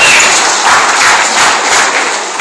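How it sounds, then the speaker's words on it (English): An audience at a fan talk event breaks into sustained, dense applause, steady and fairly loud throughout with no voices over it. "you all deserve a round of applause for the effort"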